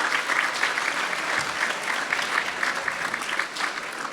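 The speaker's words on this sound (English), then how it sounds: "How about a round of applause for that?" A banquet audience at a college athletics awards night breaks into sustained applause, dense clapping from many hands filling the room steadily for several seconds.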